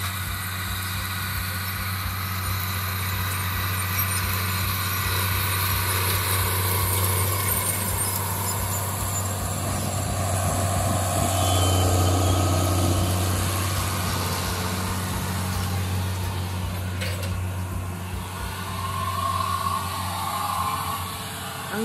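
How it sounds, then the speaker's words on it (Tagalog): A fertilizer truck's engine runs steadily at idle close by on a dusty farm road, a low constant drone throughout with a slight swell near the middle. "Yung brother niya ang nagda-drive ng fertilizer truck."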